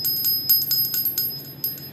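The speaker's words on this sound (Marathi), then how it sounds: "हा आवाज आहे ना एवढा छान काय येतो आहे, तर हे कास्याची वाटी आहे आणि हा बॉल देखील कास्याचाच आहे" A small bronze bell, struck with a bronze ball, rings in quick, bright, repeated tings with a lingering shimmer. It sounds close and fairly soft, with no voices.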